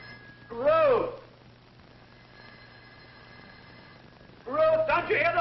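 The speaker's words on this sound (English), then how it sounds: "don't you hear the phone?" An old telephone bell rings in two bursts, one near the start and another near the end, with a quiet indoor pause between them and no voices.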